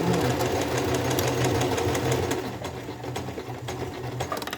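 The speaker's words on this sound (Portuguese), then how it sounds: "E agora a gente vai costurar, olha." A sewing machine stitches elastic onto fabric for a child's princess-neckline leotard, a steady close mechanical whir that runs the whole time and eases off slightly toward the end.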